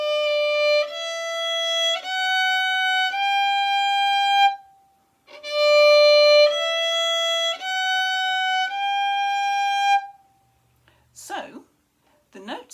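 A violin or viola plays a tone-tone-semitone finger pattern in third position: two runs of clear, sustained bowed notes stepping in pitch, each separated by a short pause, followed by a brief voice at the end.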